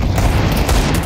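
A grenade goes off in Counter-Strike 2 on the Dust 2 map: a short, loud, close boom with crackling bursts, filling the whole brief moment.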